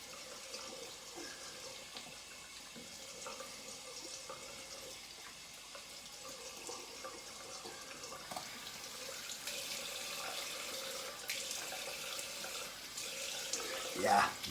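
Tap water runs steadily for a quick rinse during a straight-razor shave, a continuous near splashing stream from a faucet into a sink that grows slightly louder toward the end, with no talking.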